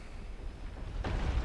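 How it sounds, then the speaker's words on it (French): A cannon in Sen's Fortress in Dark Souls fires a cannonball. A low, quiet rumble gives way to a single dull, heavy boom near the end that keeps resonating. "J'ai vu le boulet de canon partir."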